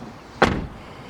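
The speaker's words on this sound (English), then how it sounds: "They can go ahead and open the door themselves." Rear door of a 2015 Dodge Charger Police Pursuit with a 5.7 HEMI opens with a single sharp latch clunk, close and brief, surrounded by quiet background hiss.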